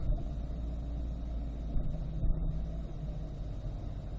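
A Chevrolet C8 Corvette backs up in reverse, its engine a steady, close low rumble throughout with slight swells and no voices.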